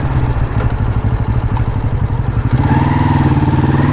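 A Honda motorcycle engine runs close up with a rapid, lumpy low-pitched throb and mechanical clatter, then the revs rise slightly into a smoother, steadier hum near the end.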